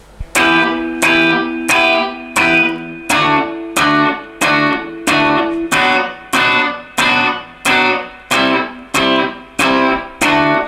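Distorted electric guitar barre chords are strummed in a steady pattern, each bright stroke ringing and decaying, repeating about a dozen times with no speech.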